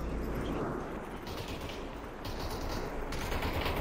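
Dense, rapid gunfire from enemies in a video game crackles continuously, like a sustained firefight somewhat in the distance, loud and unbroken throughout with shifting intensity.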